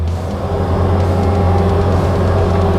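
A Kubota skid steer engine runs with the throttle turned up, a loud steady diesel drone with a strong low hum, close and continuous with no talk.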